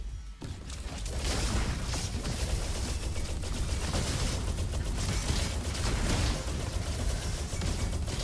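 Rapid, sustained weapon fire from the Ionic Palms in the shooter game Roboquest, a dense loud stream of bursts that continues almost unbroken for several seconds.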